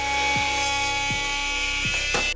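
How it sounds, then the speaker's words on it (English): A multi-tool fitted with a hook blade trims roof shingles, giving a high, steady whine with a few brief knocking catches as the blade cuts. "It was to attach a hook blade to a multi-tool"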